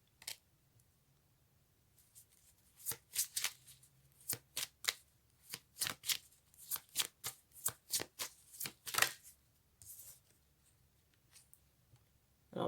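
Oracle cards shuffled by hand in a quiet room, a long run of crisp riffling flicks and soft slaps in an irregular rhythm, close and fairly faint, with no talking.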